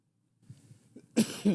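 Two sharp coughs close by, preceded by a faint rustle and quiet breathing.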